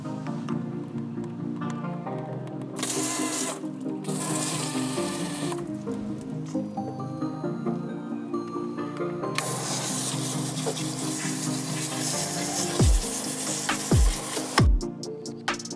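A water spray rinsing the rubber boot on a Tesla control arm in a workshop, hissing in several bursts separated by quieter gaps, with a few sharp knocks near the end.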